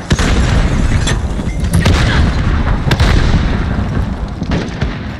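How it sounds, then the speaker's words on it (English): A rapid cluster of grenade explosions booms loudly and close in a Call of Duty Modern Warfare 2019 search and destroy match, heavy blasts overlapping with rumbling aftermath. "Damn, that was a lot of grenades."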